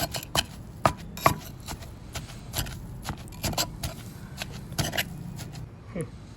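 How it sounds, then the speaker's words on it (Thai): Thai grilled mackerel chili paste with fish sauce, fermented fish sauce and seasoning powder being pounded and mixed in a mortar, giving repeated sharp thuds and scraping knocks in an irregular rhythm, close and fairly loud, with no talking. "แล้วก็ตำให้เข้ากันนะครับ"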